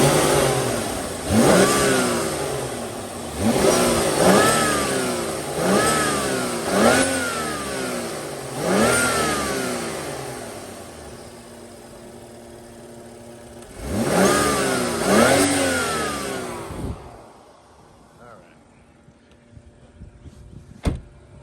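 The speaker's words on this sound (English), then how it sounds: "now I'm going to rev it up a little bit so you can hear it at a higher RPM" Engine of a 2015 BMW 640xi Gran Coupe revved repeatedly at higher RPM, each rise and fall distinct and close, about eight revs before settling to a quiet idle with a running fan.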